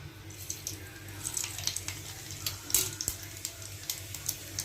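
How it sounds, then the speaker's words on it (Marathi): Cumin and mustard seeds crackle in hot oil, giving faint, scattered pops and a light sizzle over low background hiss, with no talk. "फोडणी तडतडली पाहिजे मस्त"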